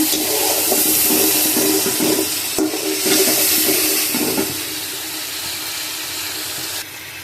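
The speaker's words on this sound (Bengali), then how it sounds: "এবার আমি মশলাটা কষিয়ে নিচ্ছি।" Spice paste for a snakehead fish curry with bitter gourd and potato sizzles in a pan, a steady close hiss with stirring scrapes, easing slightly toward the end.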